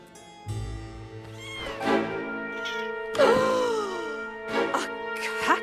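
A cartoon cat meows in a few drawn-out, rising and falling cries, fairly close and clear over soft background music, with no talking.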